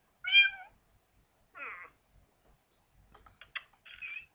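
Cats meowing in the Catz 4 game: a couple of short, high plaintive meows spaced apart, followed by quick bursts of keyboard typing and clicks close by.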